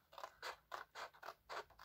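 Scissors snip through paper in a steady series of about seven crisp cuts, close and quiet, with no talking.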